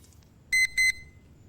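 A game timer in Elite Dangerous gives two short electronic beeps in quick succession, clear and bright over faint background noise.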